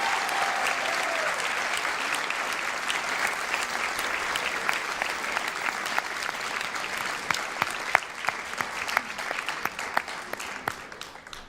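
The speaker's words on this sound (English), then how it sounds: "Let's have one more round of applause for Adriano Espaillat." Sustained audience applause at a congressional district event in New York, a broad wash of clapping that gradually thins to scattered individual claps toward the end.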